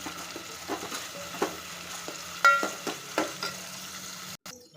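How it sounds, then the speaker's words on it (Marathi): Ginger, garlic, curry leaves and tomato frying in a pan, with a steady soft sizzle broken by scattered spatula taps and stirring scrapes, close and alone without talk. "टोमॅटो देखील त्यामध्ये टाकून फ्राय करून घ्यायचा आहे एक मिनिटभर छान फ्राय करायचं"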